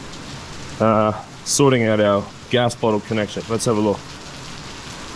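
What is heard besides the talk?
heavy rain pouring down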